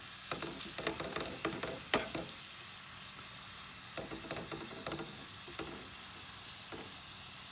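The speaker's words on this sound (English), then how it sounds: "This will start to really sizzle the shrimp." Garlic shrimp frying in a pan give off a quiet, crackling sizzle. Irregular taps and scrapes of stirring mix in, with occasional louder clicks against the pan.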